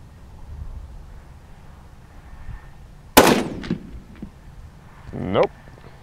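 Rifle shots at an outdoor target range, one sharp loud crack a little past midway followed by a shorter second report near the end, over a quiet background.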